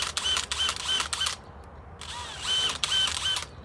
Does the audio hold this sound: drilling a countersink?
yes